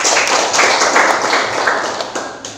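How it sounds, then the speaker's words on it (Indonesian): A classroom of vocational school students gives group 1 a round of applause after their presentation, loud close-up clapping with a quick, slightly uneven rhythm and no talk over it. "Silakan anak-anak berikan tepuk tangan ke kelompok 1"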